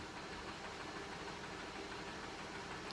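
A turbocharged Mazda car engine runs at a steady, close, loud idle with a dense rumble and no clear rise in revs, and no voices.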